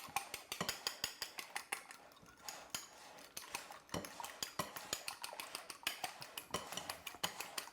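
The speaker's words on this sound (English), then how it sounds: "I'm actually just going to have you blend up that egg a little bit." An egg is beaten in a bowl with a utensil, giving rapid, steady clinking and tapping against the bowl, close and fairly loud, with a short pause partway through.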